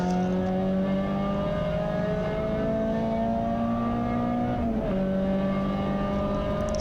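Race car accelerating hard out of the hairpin at Anglesey circuit during a 24-hour club race, engine note climbing steadily through the gears with a brief dip at a shift, loud and close, continuous roar.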